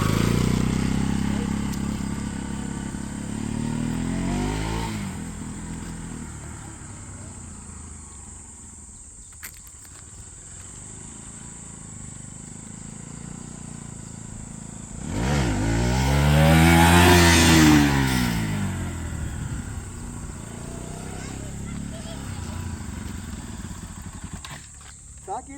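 A modified Bajaj Pulsar NS 200 stunt bike engine runs throughout, surging into a loud rev with rising and falling pitch around the middle before settling back, with voices talking over it.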